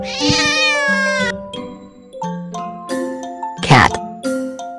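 A cat meows loudly and close by, giving several drawn-out and shorter mews mixed with light chiming tones in an educational animal-sounds lesson.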